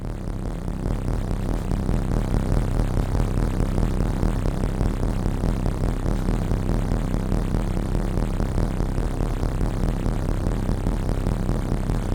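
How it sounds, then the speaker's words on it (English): A dense, rumbling drone from a Ciat Lonbarde Rollz-5 synthesizer feeding Hypersonic filters, noisy and unstable, churning with gritty low-end pulses that waver continuously at a steady loud level. "So it's like some kind of like a unstable droney thing."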